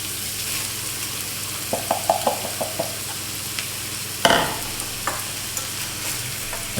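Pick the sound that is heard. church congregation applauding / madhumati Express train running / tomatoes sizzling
tomatoes sizzling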